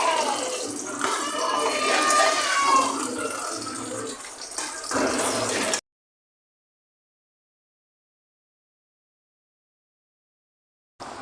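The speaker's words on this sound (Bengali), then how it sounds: "সামান্য একটু পানি দিব" Water pours into a small kadai while fish is being cooked, a steady rushing splash for several seconds that cuts off abruptly, followed by silence.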